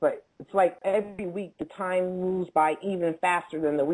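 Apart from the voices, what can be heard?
None of the usual background noises is heard.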